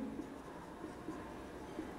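Chalk or marker scratching across a classroom board during a biology lecture, a steady faint scraping texture with small taps and strokes, no voices over it.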